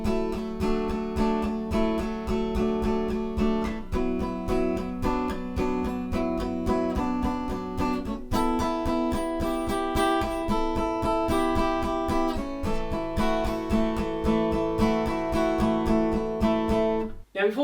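Acoustic guitar strums a chord progression, with steady, evenly spaced strummed chords changing every few seconds, up close and with no talking.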